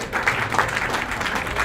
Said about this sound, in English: A big round of applause for all the awardees.